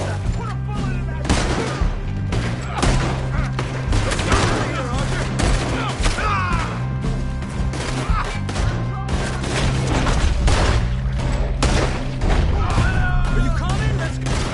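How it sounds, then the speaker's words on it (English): Heavy gunfire in a Red Dead Redemption 2 shootout, continuous rapid shots and crashing impacts filling the whole stretch, loud and close, with voices shouting over it. "They're shooting right at me!"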